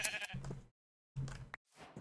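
Sheep bleating in the Minecraft video game, two short quiet bleats separated by a brief silence, heard alone without talk.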